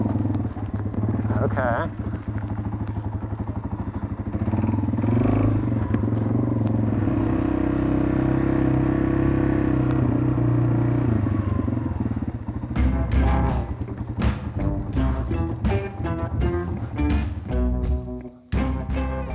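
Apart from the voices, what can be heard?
motorcycle riding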